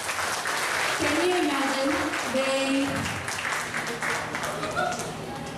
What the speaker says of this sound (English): I think that deserves a louder applause.